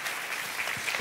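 A church congregation claps for the King of Kings at a sermon. The applause is steady and diffuse throughout, with no voices above it.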